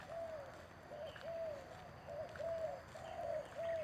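A dove coos repeatedly in a steady rhythm, soft and somewhat distant over a quiet outdoor background.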